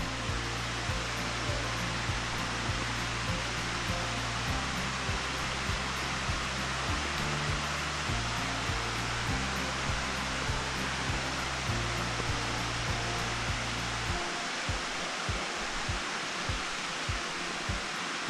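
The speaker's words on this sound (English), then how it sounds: "You can see the waterfalls in front of us." A steady, dense rushing roar of falling water from waterfalls on the Walls of Jericho Trail near Scottsboro, Alabama, constant and loud throughout with no voices.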